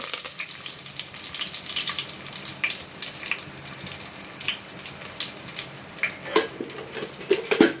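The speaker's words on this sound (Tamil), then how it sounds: "கருவேப்பிலை பூண்டு போட்டுடலாம்" Curry leaves and garlic sizzling and spattering in hot oil for sambar, with sharp crackles and pops growing louder toward the end.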